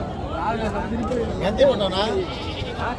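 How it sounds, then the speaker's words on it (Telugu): Sheep bleat amid the crowded Gudur sheep market, where large rams are being sold; the animal calls rise briefly over steady market chatter and nearby talk. "పెద్ద పొట్టేళ్ళు"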